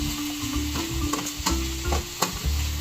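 Chicken feet with vinegar are stirred in a pan, giving a light sizzle and a few distinct scraping knocks of the utensil against the pan, heard close with no talking.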